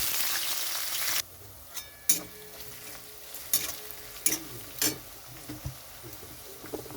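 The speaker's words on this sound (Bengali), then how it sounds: "কড়াইতে সর্ষের তেল দিয়েছি, সর্ষের তেলটা গরম হয়ে গেছে। তো এখানে দিয়ে দিচ্ছি কুচানো পেঁয়াজ" Loud sizzling of chopped onions hitting hot mustard oil in a wok at first, settling into a quieter fry with intermittent scrapes and clinks of stirring.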